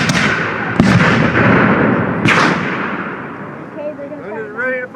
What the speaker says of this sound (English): Gun is ready to fire, Captain. Fire!